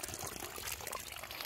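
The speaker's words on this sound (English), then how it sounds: "this is the water sucking from the river" River water pours steadily from the pipe of a drum pump, a faint continuous gushing and splashing with no talk.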